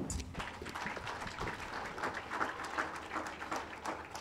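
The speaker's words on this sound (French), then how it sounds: "Merci d'applaudir." Steady applause from an audience, a dense wash of many hands clapping throughout at even loudness, with no voices standing out.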